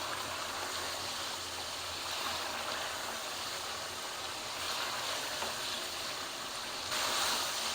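Chicken pieces being fried and roasted in a pan for a black pepper chicken gravy, giving a steady, even sizzle that holds throughout with no pauses.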